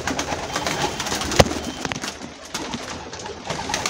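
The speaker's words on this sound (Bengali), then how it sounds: "এগুলো সব ব্রিডিংয়ের পায়রা।" Breeding pigeons coo in a loft, soft overlapping calls from several birds nearby, with a sharp knock partway through and low background rustle.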